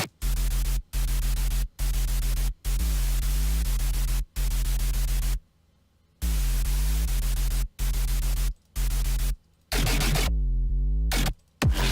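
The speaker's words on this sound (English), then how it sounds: "I already do have a lot of white noise layered with the sub." Harsh, loud white noise layered with a deep sub bass in an FL Studio deathstep track, pulsing in chopped bursts with abrupt silent gaps and pitch-bending sweeps, no voices.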